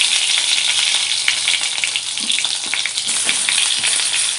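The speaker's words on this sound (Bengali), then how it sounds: "মাছ ভাজার তেলে আলু আর বেগুনগুলো ভেজে নেব লাল লাল করে" Long eggplant strips frying in oil already used for frying fish, a loud continuous close sizzle with crackling bursts and no talking.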